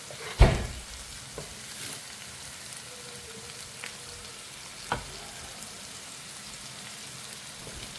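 Vegetables sauté in a pan with salt, giving a soft, steady sizzle with occasional sharp clicks and scrapes of stirring, fairly quiet and without talk.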